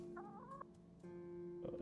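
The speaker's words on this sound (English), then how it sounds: "Other than chickens." Chickens in Tainted Grail: Fall of Avalon cluck in a few short, tonal bursts over a steady low ambient hum, fairly close and clear, with a final cluck near the end.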